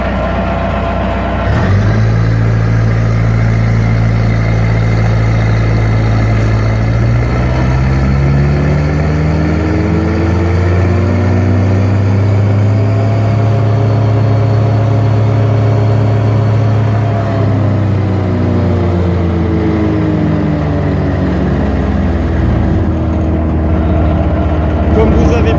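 The diesel engine of a Saelen Puma 35D wood chipper jumps from idle to full throttle and holds a loud, steady, near drone for about twenty seconds, its pitch rising and then easing slightly.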